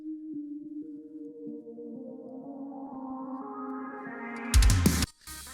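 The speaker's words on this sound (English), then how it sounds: "So that sounds like this with all the synths and all the automation lanes." A Fall Guys track plays back as a synth-heavy mix: quiet sustained synth tones stack and widen, then swell into a brief loud burst before dropping away.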